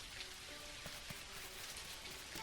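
Steady, soft video game rainfall in Dinkum patters continuously on a surface, a gentle even hiss with scattered droplets and no voices.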